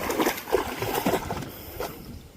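A dog fetching a stick churns through river water, sending up continuous close splashing and sloshing with a few stronger surges before it eases off.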